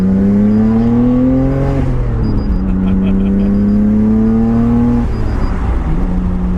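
A Nissan R32 Skyline GT-R inline-six engine accelerates hard through the gears, loud and close, its rising drone dropping at each shift, with a voice faintly underneath.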